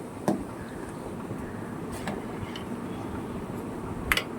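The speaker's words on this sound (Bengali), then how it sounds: "এবার আমি খিচুড়িটা ভালোভাবে নাড়াচাড়া দিয়ে দেব একটু।" A spoon stirs khichdi in a pot, giving a few faint, sparse metallic clinks and scrapes over a quiet, steady background hum.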